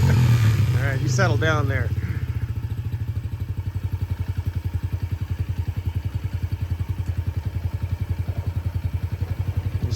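A brand-new Yamaha TTR 50 dirt bike engine putters at a steady, rapid idle close by, with a brief rev and someone speaking over it at the start.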